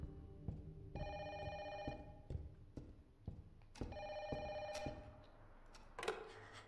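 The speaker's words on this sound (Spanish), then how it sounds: "Teléfono." A telephone bell rings in repeated bursts, two rings clearly separated by a pause, with clattering knocks and background noise around them and a louder burst near the end.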